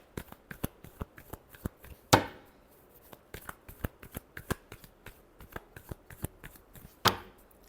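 Tarot cards are shuffled by hand in quick, rhythmic riffling taps, with two sharper bursts where the deck is bridged or cut, close and fairly quiet with no talking.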